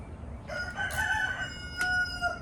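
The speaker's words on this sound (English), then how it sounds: "Yes, we know you're a rooster." A rooster crows once, a fairly close, drawn-out cock-a-doodle-doo, followed by a shorter cry, with no talking.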